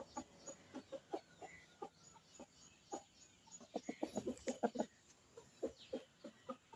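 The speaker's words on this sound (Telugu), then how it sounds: "చూడండి ఫ్రెండ్స్ ఎలా ఉందో కోడి." A brooding hen with chicks nearby clucks in a quick irregular series of short, fairly close calls, with faint farmyard background and no talking.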